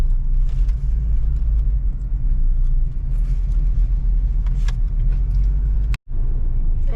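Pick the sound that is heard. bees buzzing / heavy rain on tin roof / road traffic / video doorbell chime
road traffic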